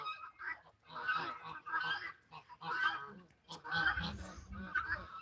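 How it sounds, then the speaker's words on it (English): A large Muscovy drake at a backyard poultry yard near a shed gives repeated hoarse, breathy calls in close, rhythmic bursts, with other fowl noise mixed in and no talk. "The big Muscovy Drake."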